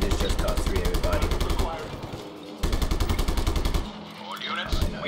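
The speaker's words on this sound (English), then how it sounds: "They're shooting civilians." Just Cause 3 video game gunfire: loud, rapid automatic bursts with brief gaps between them, close and dominant, with game voices heard beneath.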